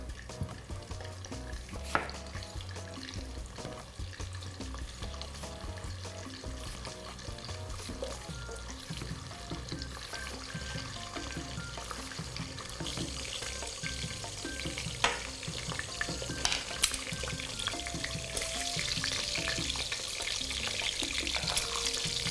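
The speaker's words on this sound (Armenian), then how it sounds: "խոզապուխտով համեմված բուսայուղի մեջ կտապակենք գլուխ սողը" Onion frying in ham-flavored vegetable oil in a pan, a steady low sizzle with stirring scrapes, growing a little louder toward the end, with no talking.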